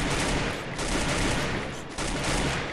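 Rapid gunfire from the Free Fire battle-royale mobile game, a dense, continuous burst of shots that stays loud and close for the whole stretch with no pauses or talking.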